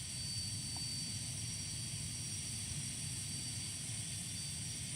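Turboprop aircraft engines spooling up during start on a flight from Palma to Ibiza, a steady, fairly faint mechanical hum and whine heard from inside the cabin.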